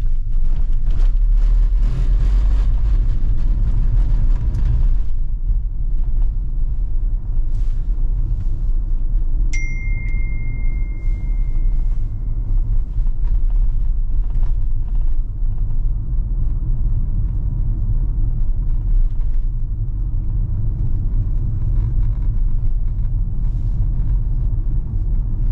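A Tesla car pulls away through Seattle rush hour traffic, a steady low road rumble and tyre hum close by throughout, with a brief electronic ding partway through.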